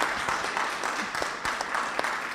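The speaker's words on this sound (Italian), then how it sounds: "ed ecco l'applauso per questo momento." Applause for Olympic torch bearers at the Sacrario delle Bandiere, a steady patter of many hands clapping at a moderate distance, fairly quiet and continuous without voices.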